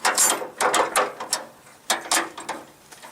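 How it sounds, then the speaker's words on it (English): The foot pedal and dozer blade pivot on a Sears Suburban garden tractor clack and ratchet repeatedly. Close metallic clicks and rattles come in two bursts separated by a short pause. "when you push your foot on this, it makes it so you can turn the blade"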